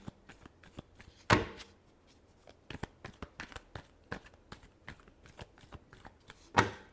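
Tarot cards being shuffled by hand, a rapid irregular series of close papery riffles and flicks with two sharper snaps standing out, no speech.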